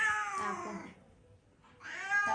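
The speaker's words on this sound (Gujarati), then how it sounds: "આ નાનું નામ ઘોઘરો કારણ કે આ બિલાડો છે" A male cat meows twice, close by, with a short pause between the two drawn-out, whiny calls.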